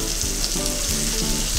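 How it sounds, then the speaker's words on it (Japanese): Thin, pounded chicken tenderloin steaks sear in butter in a frying pan over high heat, producing a loud, dense, unbroken sizzle close by. "じゅわじゅわじゅわじゅわいってきたら、もう、焼けますような合図なんで"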